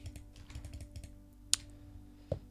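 Soft clicks of a computer keyboard and mouse during a Minecraft modpack session, a run of light taps followed by two sharper, isolated clicks, close and quiet with no talking.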